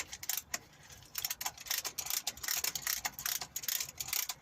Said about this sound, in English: I think I'm going to use the ratchet spanner.